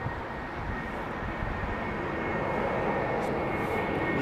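An Airbus A400M military transport plane passing at Heathrow gives a steady, broad engine rumble that holds at even loudness throughout, with no talk.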